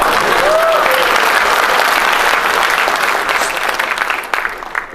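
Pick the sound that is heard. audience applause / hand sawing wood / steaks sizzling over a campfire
audience applause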